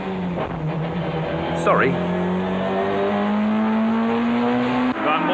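BTCC touring cars, Peugeot and Nissan among them, race at Brands Hatch, with a steady engine drone rising in pitch as the car accelerates and another car's note sweeping past briefly. Someone speaks a word over the engines.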